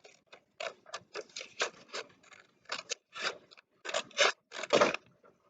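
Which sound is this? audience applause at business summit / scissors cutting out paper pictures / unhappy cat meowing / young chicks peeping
scissors cutting out paper pictures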